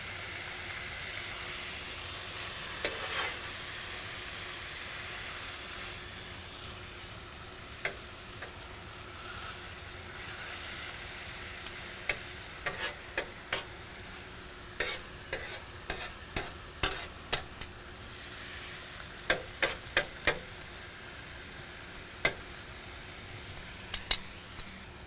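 Vegetables and brisket sizzle steadily on a hot Pit Boss grill, with a continuous frying hiss and sharp spatula clicks and taps near the end, heard close with no talking.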